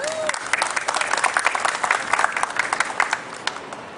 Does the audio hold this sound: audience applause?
yes